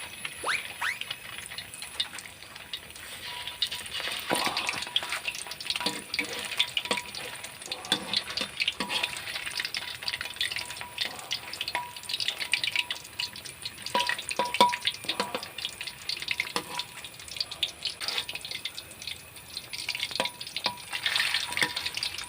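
Thai fish cakes made from firm fish paste fry in hot oil, a dense, continuous crackling sizzle with bursts of popping and occasional scraping stirs, steady and close throughout, with no voices.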